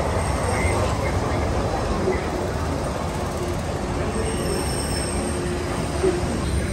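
The Disneyland monorail runs toward Downtown Disney, heard from inside as a loud, continuous rumble and hum with faint wheel whine, steady throughout.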